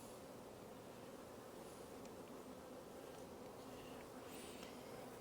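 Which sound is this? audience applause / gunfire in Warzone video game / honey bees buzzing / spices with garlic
honey bees buzzing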